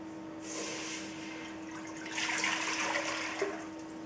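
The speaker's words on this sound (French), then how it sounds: "Donc nous versons les 2 litres d'eau." Two litres of water go into a saucepan in a kitchen, a soft continuous pour heard close, with a splashier burst near the end and a faint steady hum behind it.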